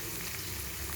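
Soaked chana dal roasting in a hot pan while making a Telugu dondakaya (ivy gourd) curry, giving a steady, even frying hiss and crackle that runs unbroken from start to finish with no voices.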